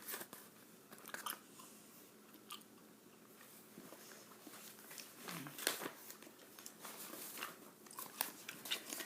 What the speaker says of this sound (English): read it while I'm chewing gum